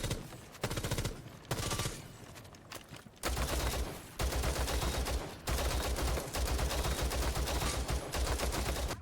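Rapid automatic gunfire in a shooter video game, an R4C rifle then a secondary weapon set to auto fire, loud, dense bursts broken by brief pauses and a steady low rumble.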